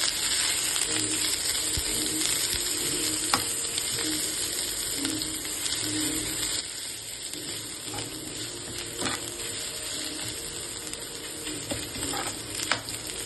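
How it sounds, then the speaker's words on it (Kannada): Crushed garlic and ginger frying in hot oil for mutton pepper fry, with a loud, continuous close sizzle and crackle that holds steady throughout, a few faint clicks of stirring on top, no talking. "ಇವಾಗ ಎಣ್ಣೆ ಕಾದಿದ್ದ ಗೈಸ್, ಅವಾಗೆ ಹೇಳಿದಂಥ ಅದು ಬೆಳ್ಳುಳ್ಳಿ ಮತ್ತು ಶುಂಠಿನ ಜಜ್ಜಿ ಹಾಕೊಂಡಿದ್ದಲ್ಲ ಅದನ್ನು ಹಾಕ್ತಿದ್ದೀವಿ"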